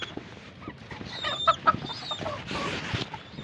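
Chickens cluck and squawk in irregular bursts close by, with an occasional sharper call amid farmyard background noise.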